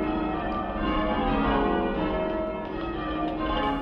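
A church tower bell rung full circle by bell ringers, swinging through a full turn with each stroke, rings out loud and sustained with a dense, ringing overtone wash and no voices.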